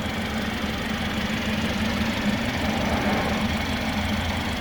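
The turbocharged four-cylinder engine of a 2018 BMW 330i xDrive Sports Wagon idles steadily with a low, even rumble and light ticking, continuous and close, with no talking.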